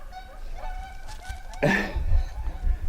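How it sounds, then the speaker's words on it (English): A pair of geese on a river honk loudly and repeatedly nearby, harsh overlapping calls that swell into a burst of noisy flapping or splashing. "Spooked a pair of geese in the river."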